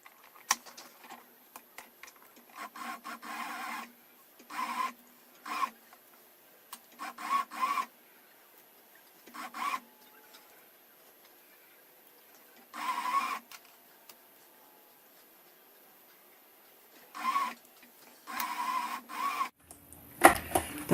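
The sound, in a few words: sewing machine winding thread onto a bobbin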